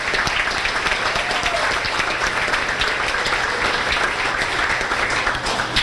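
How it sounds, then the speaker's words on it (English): Steady, dense applause from a banquet audience at a high school spring sports banquet, honoring sports booster officers, filling the room evenly for several seconds without talk. "So nice round of applause, please, for our sports booster officers"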